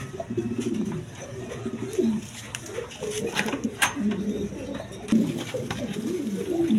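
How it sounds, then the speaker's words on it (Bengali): A male Lahori pigeon coos repeatedly in soft, throaty bursts close by, with other birds faintly around and someone talking over it. "দর্শক এখানে একটা সিঙ্গেল নর কবুতর আছে, দেখেন খুব ডাকাডাকি করতেছে, লাহোরির নর"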